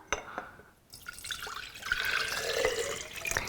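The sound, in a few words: water poured into container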